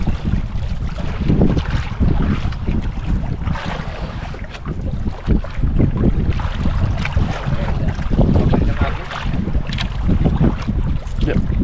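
A boat engine drones steadily while a boat moves across open water, mixed with heavy wind buffeting and splashing waves, loud and close throughout.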